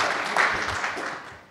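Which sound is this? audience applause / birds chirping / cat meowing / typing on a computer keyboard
audience applause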